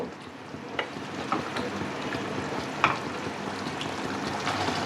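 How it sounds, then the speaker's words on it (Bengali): Kadai chicken with capsicum and green chili fries in a pan with a steady soft sizzle, while a few sharp clinks and scrapes from stirring break through. "এই সব কিছু দিয়ে আবারও বেশ খানিকক্ষণ ধরে ভালোভাবে নাড়াচাড়া করব"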